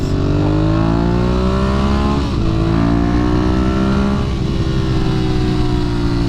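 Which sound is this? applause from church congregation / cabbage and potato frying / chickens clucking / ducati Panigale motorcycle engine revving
ducati Panigale motorcycle engine revving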